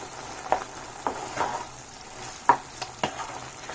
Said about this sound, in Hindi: तो 1/2 टीस्पून के करीब मैं इसमें अमचूर पाउडर डाल दूँगी और फिर थोड़ा सा और पका लूँगी।